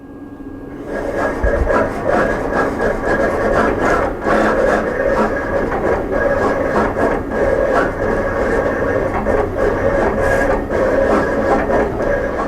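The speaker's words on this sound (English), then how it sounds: "now that we have our material loaded in our cutter, we're now ready to send our design" A vinyl cutter slices a design into Spectra Eco-Film heat-applied vinyl, producing a continuous close mechanical whir with steady tonal hum and faint rhythmic scraping, fairly loud and unbroken.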